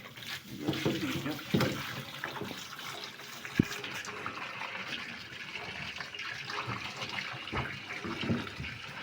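Water running and splashing while a Haier twin-tub washing machine is cleaned with water and a brush, a steady irregular sloshing with occasional scrubbing knocks, fairly close.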